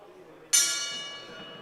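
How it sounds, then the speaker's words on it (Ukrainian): Boxing ring gong at a professional bout strikes once, a sudden bright metallic clang that rings out and slowly decays under a low hum of the arena. "Гонг прозвучав."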